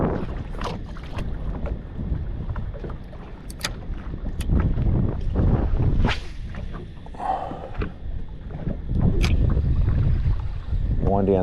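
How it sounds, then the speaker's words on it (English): Strong wind buffets the microphone on a small fishing boat in the shallows of Moreton Bay, a constant loud rushing roar with gusts and water slaps, and no clear talk over it. "the wind's just blowing something fierce"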